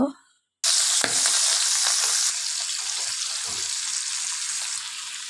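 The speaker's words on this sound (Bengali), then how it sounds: "তেলটা গরম করে নিয়েছি, মাছটা দিয়ে দিব।" Pabda fish hits hot oil in a pan with a sudden loud sizzle after a brief silence, then fries with a steady, close, crackling hiss that eases slightly toward the end.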